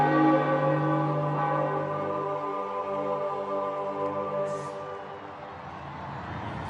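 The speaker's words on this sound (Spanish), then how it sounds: "pronto comienzan a sonar las campanas y ya no hay dudas" A large church bell rings with long, sustained overtones that slowly fade, sounding resonant and moderately near, with no voices.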